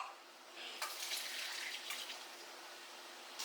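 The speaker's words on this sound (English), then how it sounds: "You want to use the same sieve. You want to drain the pasta." Pasta water pours out through a sieve in a makeshift travel kitchen, a steady, soft rushing and splashing that swells after a moment and keeps flowing faintly to the end.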